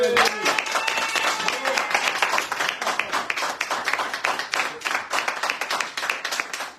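A live studio audience on a French radio bistro show breaks into steady applause, dense rapid clapping from many hands that holds at a fairly loud, even level throughout, with a voice briefly heard at the start.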